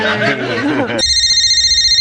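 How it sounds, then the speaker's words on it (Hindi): Someone talks briefly, then a loud electronic telephone ring takes over, a steady trilling tone that continues to the end. "फोन वो फोन बज रहा है"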